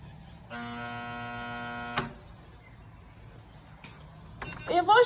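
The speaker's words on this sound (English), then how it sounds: "Gonna hold the alarm on for 4 seconds." An elevator panel alarm held on as a steady, harmonically rich electronic buzz for about one and a half seconds, stopping abruptly with a click, followed by quiet background hum and a louder sound rising at the end.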